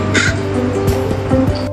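A crow gives several harsh, close caws in quick succession, each a rough descending call, over a steady tonal background hum.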